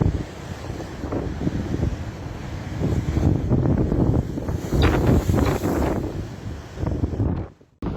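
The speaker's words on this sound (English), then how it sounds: "Several images circulating on social media show powerful and spectacular waves crashing against the harbour wall at Stonehaven." Powerful storm waves crash against the harbour wall at Stonehaven, Aberdeenshire, under heavy wind buffeting the microphone. The surges swell and build to a loud roaring peak midway before the noise briefly drops away at the end.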